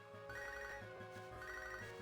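A phone call ringtone in Pokémon HeartGold, a steady electronic ring that repeats in a regular pulsing pattern, clear and alone with no voices.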